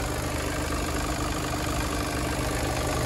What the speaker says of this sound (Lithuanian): Variklis dirba labai gražiai.